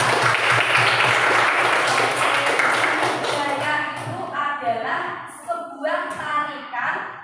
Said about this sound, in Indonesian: Tepuk tangan untuk Benita.